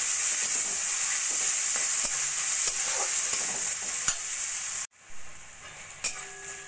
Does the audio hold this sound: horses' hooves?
no